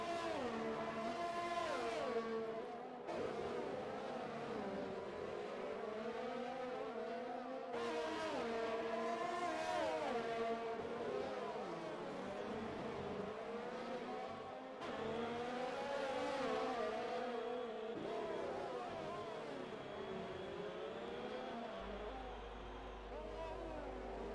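Race cars in a sim racing game running nose to tail at a Singapore circuit, their engines droning and wavering in pitch as they rev and shift, steady and fairly loud with no voices.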